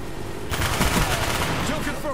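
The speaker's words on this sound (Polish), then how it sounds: "Ziomek strzela do mnie ze zwykłej broni" Automatic gunfire rattles in a Call of Duty: Black Ops multiplayer match on PS3, a loud, dense burst starting abruptly and continuing steadily for over a second amid background game noise.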